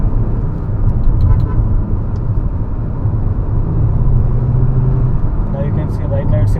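Kia Carens Clavis with a 1.5L turbo petrol engine and seven-speed dual-clutch gearbox accelerating in sport mode, a steady low engine and road drone heard from inside the cabin, with a faint chirp near the end.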